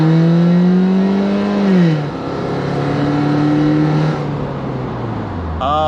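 A BMW Z3 sports car engine revs hard and climbs through the gears, loud and close, its pitch rising, dipping at each shift, then rising again.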